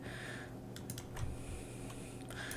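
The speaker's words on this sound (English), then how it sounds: "After I took the little metal piece out, the keyboard's actually really quiet." Quiet computer keyboard with its small metal piece removed, typed in a steady patter of soft clicks with brief pauses, close and low in level with no talking.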